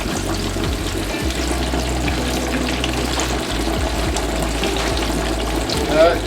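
A mayo-and-mustard coated pork chop deep-frying alone in a fryer gives off a continuous dense bubbling hiss with a low steady hum underneath, even and unbroken throughout.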